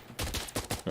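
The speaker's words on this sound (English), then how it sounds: "Is there a reason you're shooting at me?" Rapid gunfire rattles in Insurgency Sandstorm, several loud close shots in quick succession within about a second, sharp broadband cracks with no talking.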